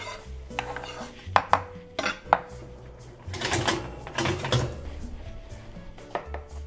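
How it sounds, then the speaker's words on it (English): A knife chops pistachios coarsely on a board in a kitchen, a run of quick uneven taps with light clatters in between, nearby and moderately loud. "this is our pistachios, and we're going to chop them"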